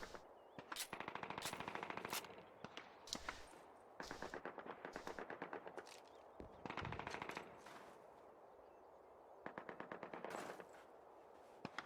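Machine guns fire in the Call of Duty video game during a Bastogne bunker battle. Long, rapid bursts rattle again and again, separated by short pauses, sharp and loud against a background hiss.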